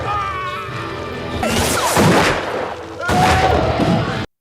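Gunfire from a shootout in the 1988 western film Young Guns: two loud bursts of rapid shots and crashes, the first after a quieter stretch and the second a moment later, with music and voices underneath.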